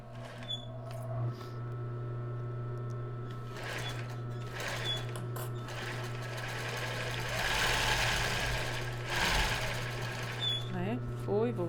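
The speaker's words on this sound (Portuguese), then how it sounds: "vou costurar e fazer um retrocesso" A sewing machine stitches a fabric topper, running forward and then reversing for a backstitch, its quiet steady whirring mixed with a speaking voice.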